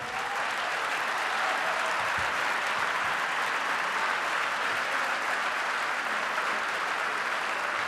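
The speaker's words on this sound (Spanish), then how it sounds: "Le damos la bienvenida a Noam Chomsky con un fuerte aplauso." A large audience at an international forum on emancipation and equality breaks into loud, dense, sustained applause, a continuous wash of clapping that holds steady for the full eight seconds.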